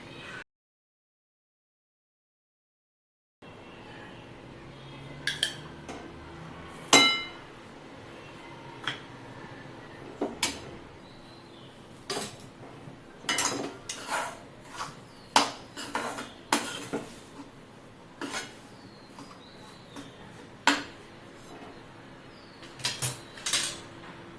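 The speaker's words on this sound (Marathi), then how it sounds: "आपण हे पीठ मंद आचेवरती भाजून घेणार आहे" Wheat flour dry-roasting in a pan over a low flame for jaggery barfi, with intermittent clinks and scrapes of a spatula against the pan over a soft steady background; no talking.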